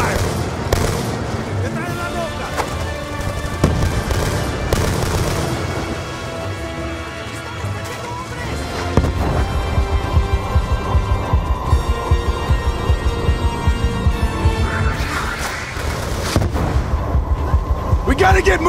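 Dense, loud gunfire and heavy explosions from a desert battle in Call of Duty Black Ops 2, with continuous rapid shots, booming blasts and shouted voices mixed through the whole stretch.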